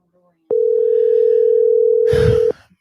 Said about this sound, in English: real quick call and get Zach on the line and bring him in with us